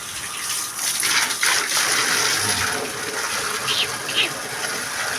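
Water gushes and splashes in a constant loud stream while cattle are washed down, the flow rising slightly and holding steady, with no voices over it.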